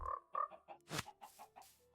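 Several frogs croak in Minecraft Bedrock Edition, a run of short, fairly close croaks repeating in an uneven rhythm, with a louder burst in the middle and no talking.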